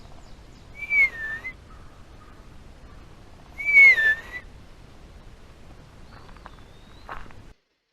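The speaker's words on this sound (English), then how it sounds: "Black-capped chickadee." A black-capped chickadee gives two clear, whistled two-note calls a few seconds apart, then a fainter call, in a quiet outdoor setting.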